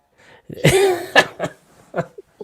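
A close, harsh cough with a strained throaty rasp, followed by several shorter coughs and throat-clearing bursts trailing off.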